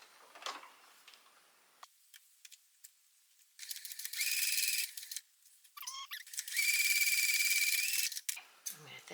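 A small sewing machine stitching a key fob dangle whirs in two sustained bursts, each lasting a couple of seconds, broken by scattered clicks and handling noises.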